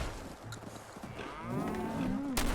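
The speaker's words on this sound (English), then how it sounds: "Angry cows!" Angry cows in Fallout 4 bellow with long, rising moos, several overlapping, loud and close against a steady game ambience, ending with a sharp burst of noise.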